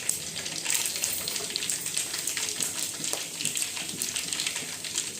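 Dried red chillies sizzle and crackle in hot oil after cumin seeds, a steady dense frying hiss with small pops, close and continuous.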